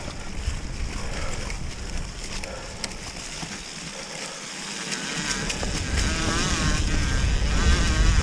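A mountain bike with something caught in its front fork rides the Lost Marbles Trail in Ohio, giving off a continuous buzzing, motor-like rattle amid rolling trail noise that grows steadily louder toward the end.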